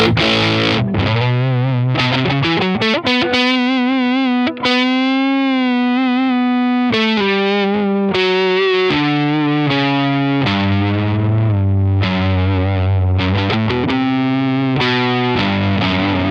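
Electric guitar, a Les Paul or Stratocaster, played with heavy, saturated, near-fuzz distortion, sustained notes and bends ringing out thick and loud without pause.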